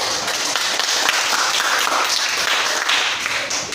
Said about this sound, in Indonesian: untuk kelompok 2 kita beri aplaus